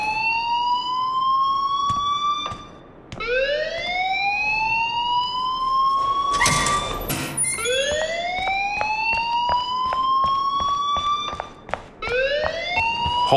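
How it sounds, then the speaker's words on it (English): Loud electronic alarm in the video game Life is Strange, a repeating rising siren-like wail with harmonic sweeps, interrupted by a brief burst of noise midway, then continuing its cycles. "please turn off that alarm since that's your job"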